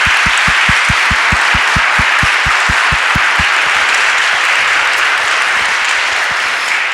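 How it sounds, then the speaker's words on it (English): A church convention audience at St. Paul's Episcopal Church applauds loudly and steadily, with a few sharp rhythmic claps standing out near the front before blending into the broad, sustained wash of clapping. "Can we start with a round of applause for St."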